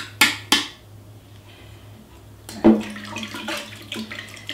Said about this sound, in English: we'll dump the butter and the buttermilk into this colander